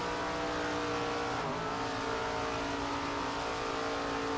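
Super late model race cars lap a paved oval in a 50-lap race, engines roaring steadily and loud, close and continuous with no break in the drone.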